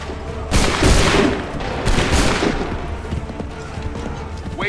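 Two loud musket volleys crack out on command in an Assassin's Creed III battle, each a broad ragged burst about a second apart, followed by fading rumble and scattered battlefield noise.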